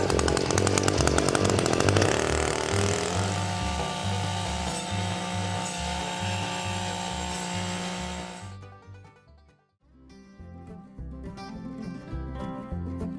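A loud chainsaw roars steadily while cutting through wood, its engine note shifting under load, then briefly dropping off before revving back up.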